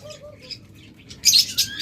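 Pet birds for sale, including lovebirds, budgerigars, cockatiels, doves and mynas, give soft, brief chirps and then a sudden close burst of wing flapping near the end.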